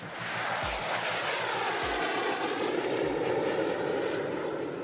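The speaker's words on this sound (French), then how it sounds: "L'ébauche d'un drone de combat furtif, il préfigure l'avenir." The Neuron stealth combat drone demonstrator flies past as a steady, loud, broad engine roar that holds throughout the clip with no talk.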